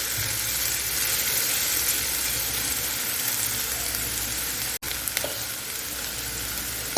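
Seasoning browns in a frying pan with a steady, loud broadband sizzle that runs unbroken, apart from one brief dropout near the end, with no talking.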